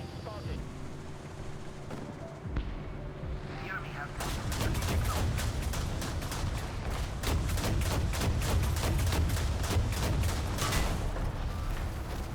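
Cannon and gunfire in a video game vehicle battle: a steady, dense barrage of sharp reports and booms that grows loud after a quieter start, with rapid bursts layered over continuous rumble.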